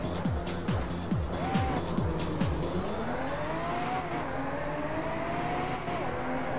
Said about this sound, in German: Also, wir fahren jetzt mit dem SL 280 Pagode.